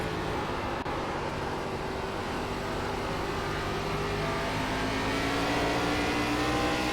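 ARCA stock car engine on the Nashville Fairgrounds oval in the iRacing sim, a steady loud drone holding high revs down the straight, pitch rising slowly as it pulls alongside another car, with no talk over it.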